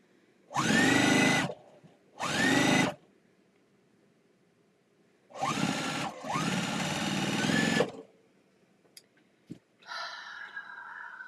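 A home sewing machine running long-arm quilting stitches: several sustained motor whirs of a second or so each, separated by quiet gaps, followed by a longer run and a higher, softer buzzing burst at the end.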